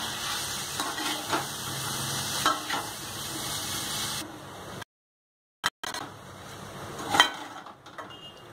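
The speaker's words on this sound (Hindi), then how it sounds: "अब इसमें हम रोटी डालेंगे। अच्छे से हिलाएंगे" Leftover chapati noodles fry in a pan and are stirred, with a steady sizzle and repeated scraping strokes, close by. The sound drops out briefly partway through.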